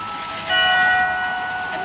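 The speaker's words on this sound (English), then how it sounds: "You can hear the bells in the background of Wako as the staff come to close down the street." Bells ring at noon from the Wako building in Ginza, Tokyo, heard on the street as sustained, shimmering tones that swell after a moment and hang over the background noise.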